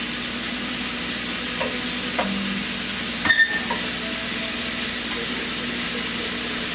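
Shrimp frying in a pan, a loud, even sizzle held close throughout, with a brief clatter partway through and no talking.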